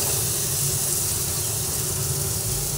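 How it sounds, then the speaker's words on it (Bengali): Spices with turmeric fry in a pan with onion and tomato, making a loud, steady, close sizzling hiss that runs unbroken throughout. "ভালো করে কষিয়ে নিয়ে সব মশলাগুলো ভেজে নিচ্ছি"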